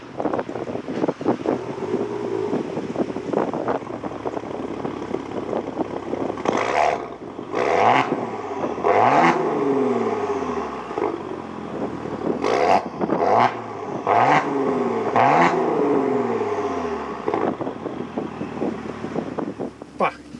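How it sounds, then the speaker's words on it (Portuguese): Maserati Quattroporte engine idling close by, then revved in two rising and falling bursts, loud over buffeting wind noise, with someone talking in between. "Mas eu vou ligar o carro para vocês verem que barulho é que ele faz"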